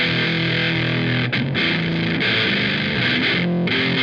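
Heavily distorted electric guitar chugging a thick, loud riff with dense crunchy overdrive, close and continuous, played alone without any voices.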